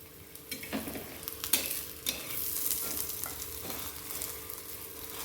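A golden carrot snack fries in a pan as oil is drizzled around its side, giving a steady soft sizzle broken by a few sharp scraping clicks, close up with no talking.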